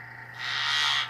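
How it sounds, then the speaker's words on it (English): A Navy-trained dolphin gives a victory call after finding a mine: a single high, sustained whistle that swells in strength and then cuts off, heard alone over a faint steady underwater hum. "Now, the sounds you hear now are the animal's victory call."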